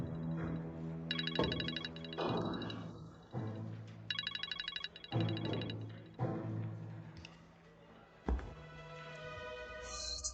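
A telephone rings unanswered, its electronic ringtone repeating in steady bursts of a few seconds each over about ten seconds, fairly quiet and with no one speaking.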